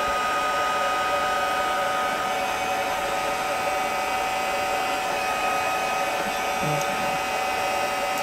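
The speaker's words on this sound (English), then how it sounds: "So I'm just going to hit it real quick with my heat gun." A heat gun blows hot air over a watercolor greeting card during a craft session, giving a steady, loud whoosh that runs unbroken from start to finish with only a faint knock near the end.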